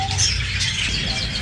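A caged bulbul songbird chirps at a busy Baghdad bird market, giving a few thin, bright calls over constant crowd and street noise.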